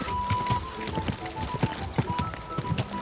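Horse hooves clip-clopping at a steady walk in the medieval video game Kingdom Come: Deliverance II, a series of fairly close, light thuds spread across a soft ambient background with a faint tone.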